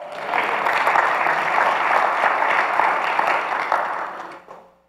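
A church congregation applauds together, a dense steady wash of clapping that holds for several seconds and then fades out toward the end.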